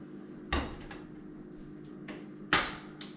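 Removable round cast access door on an Amish-country wood burning stove being handled, two sharp metallic clunks about two seconds apart with softer knocks between, close and alone over a low steady room hum.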